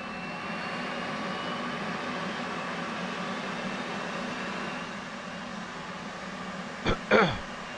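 Two short coughs from someone with a cold near the end, heard over a steady, droning engine hum from an F/A-18C Hornet in a flight simulator.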